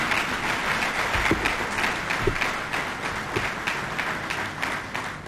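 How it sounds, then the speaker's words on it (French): Applause from a conference audience after a speech at an event on sexual harassment, a continuous patter of many hands clapping at moderate volume for several seconds, with no talk over it. "Vous méritez une fois de plus des applaudissements."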